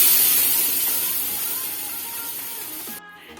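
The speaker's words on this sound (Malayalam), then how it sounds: "അതിലേക്ക് നമ്മൾ അടിച്ചുകൊണ്ട് വന്നിരിക്കുന്ന മാംഗോ ജ്യൂസ് ഒഴിച്ചു കൊടുക്കാം." Mango juice hits a hot non-stick pan with a loud, close hiss of sizzling steam that slowly fades over a few seconds, then cuts off sharply near the end.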